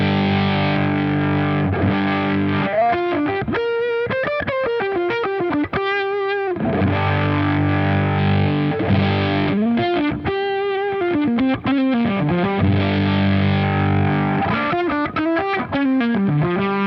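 A heavily distorted electric guitar played through a JHS Crimson fuzz pedal plays a riff with sustained fuzzy chords and bent single notes, loud and thick, with no talking.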